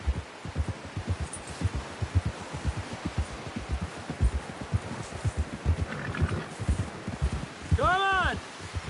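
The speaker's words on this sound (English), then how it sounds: "Someone help John down off this horse" Horse galloping in the video game Red Dead Redemption 2, a fast rhythmic pounding of hooves that runs steadily the whole way, with a rising musical chime near the end.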